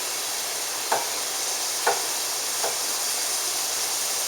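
Food fries in oil with a steady, broad hiss of sizzling, broken by a few faint clicks or taps of a utensil, close and continuous.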